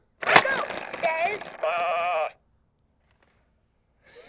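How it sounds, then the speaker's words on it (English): A See 'n Say toy plays a goat's bleat after its recorded voice announces the animal, the wavering bleat loud and close, then silence before faint sound returns. "A goat says ba."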